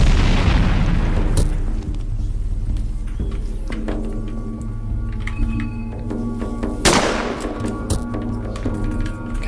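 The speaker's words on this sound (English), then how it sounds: "I'll just use pipe bombs" Pipe bombs exploding in a video game: two heavy, close booms, one at the start and another several seconds later, each decaying into a rumbling tail over a steady tonal background.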